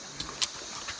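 Horse hooves clip-clop on a Costa Rican mountain trail in a few quick, light, fairly close strikes over a steady outdoor background.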